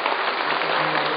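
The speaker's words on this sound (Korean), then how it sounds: "박수 한번" A church congregation at Gwangyang Daegwang Church gives a warm welcoming round of applause, a continuous, even burst of many hands clapping at moderate loudness with no talk over it.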